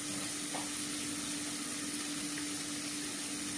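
Onions with turmeric fry in a pan, giving a steady, dense sizzle that runs continuously at an even level with no talking.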